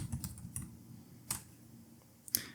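Computer keyboard typing a command, a few scattered key clicks with pauses between them, quiet and close in a calm room with no talking.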